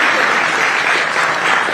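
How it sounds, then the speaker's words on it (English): A large conference audience at the NDTV Profit Conclave claps loudly and continuously as a speaker is welcomed, a dense, steady wash of applause. "can we have a round of applause as we welcome to the NDTV Profit Conclave"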